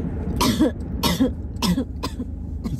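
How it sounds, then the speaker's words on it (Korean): Three or four distinct coughs come one after another at close range, each a short harsh burst with brief pauses between. "기침으로 대답하는 거야?"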